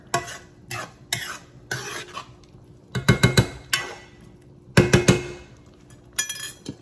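A spoon stirs a pot of cube steak with peppers and onions, scraping and clinking against the sides in a few short bursts with pauses between, close and moderately loud.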